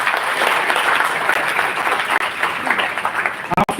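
Sustained crowd applause at an HR conclave, a thick continuous wash of clapping that stays loud throughout and ends with a few final claps.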